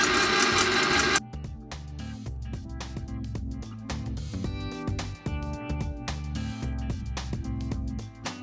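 A food processor whirs as it mixes oil into maple syrup, with a rough, rattling motor hum in bursts, and a brief louder start before it settles.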